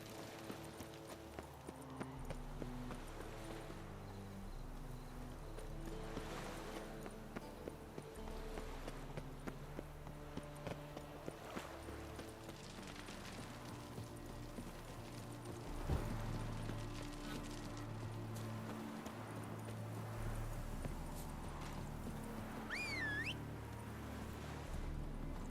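Roach the horse's hooves clip-clop at a steady walking pace on the road in The Witcher 3: Wild Hunt, heard over a continuous music score, with a brief horse whinny near the end.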